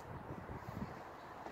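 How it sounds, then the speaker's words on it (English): Low, steady wind rumble buffeting the microphone, a continuous blustery roar with slight gusts and no talking. "please excuse all the wind out here"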